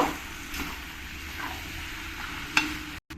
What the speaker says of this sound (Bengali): এই মশলার সঙ্গে একটু ভালো করে আমি নাড়িয়ে চাড়িয়ে নেব